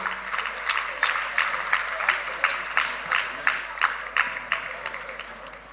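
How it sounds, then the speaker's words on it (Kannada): Rhythmic, unison clapping from an audience welcoming guests at a Bharatanatya recital, beating steadily about twice a second, moderately loud and sustained across the whole span. "ಇವರಿಗೆ ನಾವೆಲ್ಲರೂ ಜೋರಾದ ಚಪ್ಪಾಳೆಯ ಮೂಲಕ ಸ್ವಾಗತಿಸಬೇಕು"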